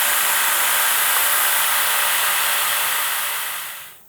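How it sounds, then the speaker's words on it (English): A 2x72 Broadbeck belt grinder with a worn 120-grit belt shapes the ends of a steel sword guard, giving a loud, steady, close-up abrasive whine that winds down and fades out at the end. "I'm gonna shape these little ends on the 2x72 Broadbeck with a kind of worn out 120 grit"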